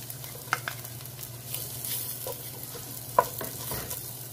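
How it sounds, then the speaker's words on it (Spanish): Onion and garlic sautéing in a pan, a soft low sizzle with a few sharp stirring knocks and scrapes, fairly quiet and without talk. "Y sofreímos hasta que la cebolla se torne transparente"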